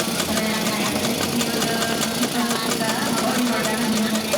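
An antique motorcycle from the 1920s to 1960s era, such as a Harley Davidson, Vespa or Triumph, idles steadily at an outdoor gathering, a close, even putter with faint crowd voices behind it.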